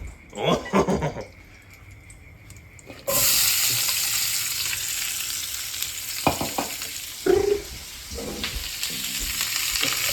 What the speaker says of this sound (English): Stir the onion.